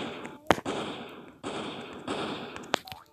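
Pistol shots in a Call of Duty–style video game, two sharp loud bangs spaced apart over a continuous game background din, with a brief fainter crack near the end.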